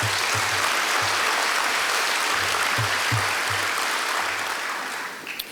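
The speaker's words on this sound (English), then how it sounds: "let's give Brandon a big round of applause" A banquet audience gives dense, sustained applause at the 2018 ECU baseball banquet, loud and continuous almost throughout before tapering off at the very end.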